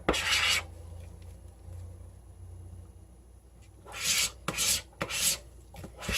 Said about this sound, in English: the yellow doesn't matter, so we'll just scrape it up and use it